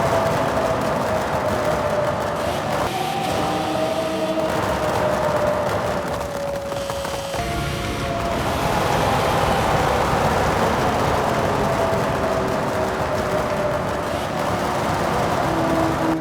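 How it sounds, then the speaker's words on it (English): Yamaha V10 engine in the Forza Horizon 6 racing game, a loud sustained high-pitched wail that climbs and drops through gear changes, with a brief dip partway through, no talking. "Let the Yamaha V10 speak for itself."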